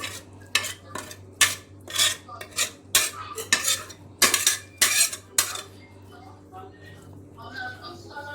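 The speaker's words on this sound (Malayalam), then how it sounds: "ഇനി നമുക്കിത് ഒരു പാത്രത്തിലോട്ട് മാറ്റാം കേട്ടോ" Cooker chicken scooped from a pressure cooker into a serving dish, with a rapid series of sharp metal spoon scrapes and clinks against the pot that fades to quieter shuffling, close up and without talk.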